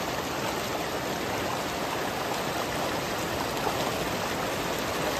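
Floodwater rushing over a road and carrying stones, a steady, dense roar of water that stays loud and unbroken throughout, with no voices.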